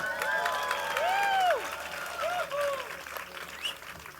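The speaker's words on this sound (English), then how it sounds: "Everyone, give her the clap." At a festival talk in a tent at Boom Festival, an audience claps and cheers for a volunteer called up from the crowd, with whoops and high shouts over a moderate, steady patter of applause.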